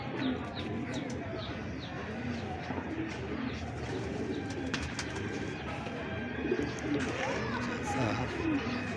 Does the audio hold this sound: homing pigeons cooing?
yes